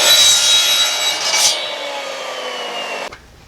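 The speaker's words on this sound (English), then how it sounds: "Now, if you don't have a miter saw like this, you can just use a hacksaw, a reciprocating saw, or whatever else you have to cut them." Saw cutting through a length of pipe to size, a continuous loud grinding rasp that stays steady for about three seconds, fades, then stops abruptly.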